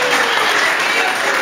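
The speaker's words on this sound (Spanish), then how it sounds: "Che, sacan aplausos a los dichos" An audience claps steadily and loudly for jokes told on stage at a Los Navarros comedy show, a dense, even wash of applause with no breaks.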